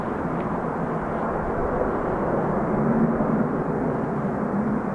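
A Virgin Atlantic airliner bound from Manchester to JFK passes overhead near Dublin Airport, giving a steady, broad jet roar that holds for the whole stretch with no talk.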